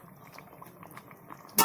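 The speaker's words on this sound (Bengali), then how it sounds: "তরকারিটা আরেকটু ফোটার অপেক্ষায় আছি।" Fish curry simmers in a pot, a soft steady bubbling close by, ending in a sudden sharp loud burst.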